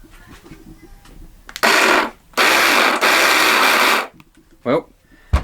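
Ryobi EZ Clean 18V cordless pressure washer pump running with a hose attached, in two loud steady bursts of whirring hiss separated by a short pause, with quieter mechanical clicks before and after.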